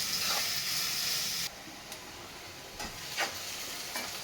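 Green chillies, eight to ten of them, frying in a pan for puffed-rice chitranna: a steady close sizzle with soft stirring scrapes that thins after a moment, leaving quieter crackle and a few brief clinks.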